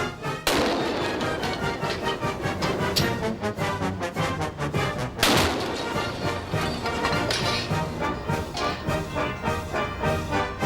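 A trombone packed with extra gunpowder fires as a makeshift cannon in a Titanic myth test. Two loud booming blasts land about five seconds apart, each followed by rumbling, rattling decay.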